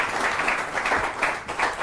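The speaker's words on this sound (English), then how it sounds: "Big round of applause for you" Applause for magician John Archer at a magic lecture, a dense wash of clapping that swells and dips across two seconds, fairly close and steady with no clear voice over it.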